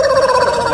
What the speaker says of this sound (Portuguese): Olha o galo cantando.